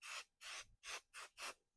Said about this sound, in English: I will just come to the back of my banner, spray a little bit on there,